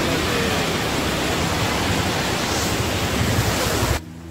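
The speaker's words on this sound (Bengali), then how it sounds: "ভালোই জলের স্রোত আছে।" A strong stream current rushes at Jonha Falls as a steady, loud, close roar of water that runs without a break and then cuts off abruptly near the end.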